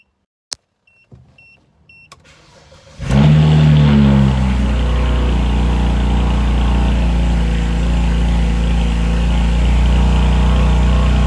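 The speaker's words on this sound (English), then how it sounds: "Cold start." A BMW 335xi coupe with a freshly installed stage 2 fuel pump first whirs faintly while priming with a couple of clicks, then its engine cranks and catches on a cold start. It settles into a loud, steady high idle, close by and without any talk.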